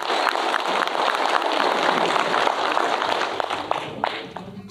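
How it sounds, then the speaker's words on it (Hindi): Sustained applause at a community gathering welcoming Renu Devi, a dense, steady wash of many hands clapping that carries through the whole stretch and thins slightly toward the end. "इनका जोरदार तालियों से स्वागत"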